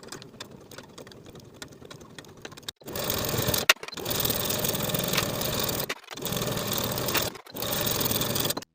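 A sewing machine stitching the side and shoulder seams of a coat lining: after a quiet stretch it runs in several steady, loud whirring bursts with short pauses between them, close by.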